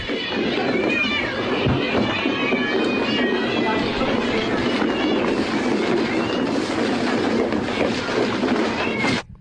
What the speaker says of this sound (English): That's a cat feeding frenzy right there.